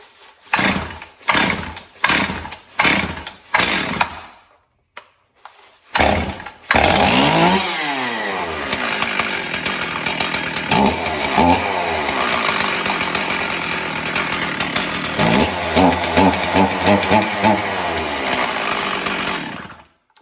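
A pull cord is yanked several times in quick succession, then a Stihl MS440 chainsaw engine roars to life and runs loudly, revving up and down.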